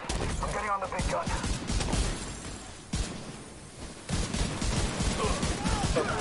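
Heavy mounted gun in The Division 2 firing sustained rapid bursts, loud and close, with brief pauses between volleys and a voice talking over parts of it.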